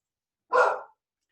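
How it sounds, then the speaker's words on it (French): A dog gives one sharp, fairly close bark in an otherwise quiet room. "J'ai le chien qui m'avertit, mais je ne peux pas aller voir."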